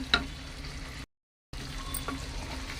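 Tender bottle gourd curry, cooked without water and seasoned with chili powder and jaggery, sizzles steadily in a pan as it is stirred, with a brief silent break midway.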